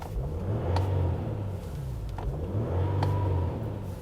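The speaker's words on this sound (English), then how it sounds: "I just love the engine grunt. It's a diesel" A diesel engine in a 2016 Mercedes-Benz GLE Coupe 350d accelerates with a deep, gruff rumble that rises and falls in pitch twice, steady and close, with no voices.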